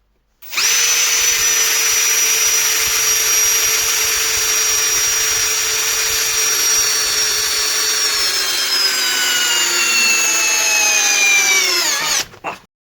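A Procraft PA18LiN cordless drill on a 2-amp-hour battery, set to first speed, drives an 8x100 screw into a wooden block with one long, loud, close whine that holds steady, then sags and stops abruptly.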